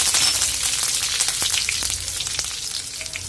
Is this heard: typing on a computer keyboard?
no